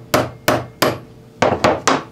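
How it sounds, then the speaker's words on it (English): Six sharp hammer taps on a metal pin in a Boga Grip scale, three evenly spaced, a short pause, then three more, close and loud with brief ringing. "a couple of taps with a hammer"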